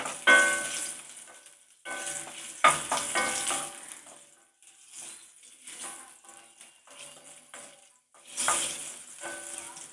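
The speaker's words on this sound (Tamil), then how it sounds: "இது சும்மா லைட்டாக வதங்கினாலே போதும்" Ingredients sautéing lightly in hot oil in a pan for Mappillai Samba idli, with close sizzling and stirring scrapes in repeated bursts that rise and fade and short quiet gaps between them, no talking.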